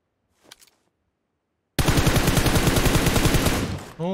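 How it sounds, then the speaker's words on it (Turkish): Gunfire in PUBG Mobile: a faint distant shot, then after a pause a loud sustained burst of rapid automatic fire lasting about two seconds, ending abruptly. "Gavat bana nasıl sıkıyorsun oradan?"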